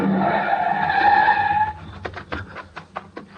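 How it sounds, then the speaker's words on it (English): In a radio drama, a fast car roars in close and then skids to a stop with a long tire squeal, followed by scattered scraping and settling noises, with no voices over it. "The car was close now and moving fast."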